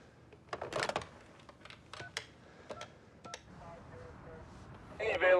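Telephone keypad tones being dialed in a bank-robbery film scene, a quick scatter of short beeps over background noise, ending with a louder burst of tone.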